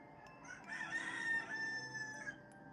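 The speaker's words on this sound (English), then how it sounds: "Listen to those roosters going off here." Roosters crow in the predawn dark, one long drawn-out cock-a-doodle-doo rising clearly over fainter background clucking and crowing from other birds, moderately distant and with no speech.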